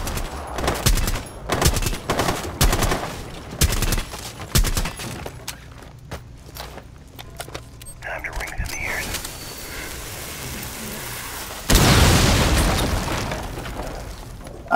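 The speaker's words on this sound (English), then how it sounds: "I'm gonna shoot out the top of the roof." Gunfire rattles in the video game Rainbow Six Siege, with rapid bursts and booming shots in a clubhouse team deathmatch hostage match as a player shoots through a roof, loud and dense with brief lulls.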